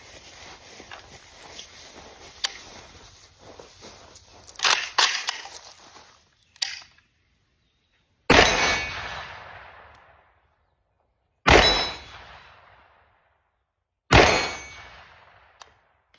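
Sharp gunshots from a 514-S rifle chambered in 5.56x45 with a chopped-down barrel and no adjustable gas, fired outdoors near a barn; about four loud cracks spaced a few seconds apart, each ringing briefly before near silence.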